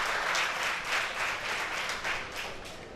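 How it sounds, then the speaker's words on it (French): An audience at an evening spelling championship event gives a retired teacher a sustained round of applause, a steady dense patter of many hands that swells and eases slightly over three seconds. "On l'applaudit très fort"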